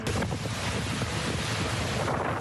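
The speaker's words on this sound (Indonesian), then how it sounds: "terjangan angin kencang menciptakan gelombang tinggi yang mengguncang deretan perahu di sepanjang pesisir" Strong wind roars against the microphone along the shore at Tuzla, with surging waves and rocking boats buried in a constant loud rumble.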